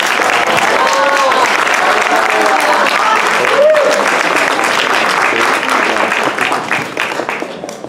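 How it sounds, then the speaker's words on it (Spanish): Loud, sustained applause and cheering from an audience at a house dedication event for Jacobo Cojab, broad clapping that holds steady, then thins and tapers off near the end, with voices calling out through it. "Por favor, un muy fuerte aplauso para el señor Jacobo Cojar."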